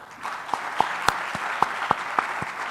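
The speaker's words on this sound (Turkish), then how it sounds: "Onun için en büyük alkışı da sizler için rica ediyorum" Scattered applause from attendees at the closing and award ceremony of a scientific congress: a handful of separate, crisp hand claps spaced irregularly over a soft room hiss, with no voices.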